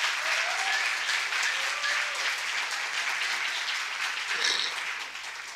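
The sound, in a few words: applause from an audience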